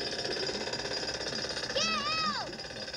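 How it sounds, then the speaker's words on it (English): A cartoon jackhammer hammers in a steady, dense rattle at close range, joined near the end by a brief bending, whistle-like cartoon tone. "Using this jackhammer."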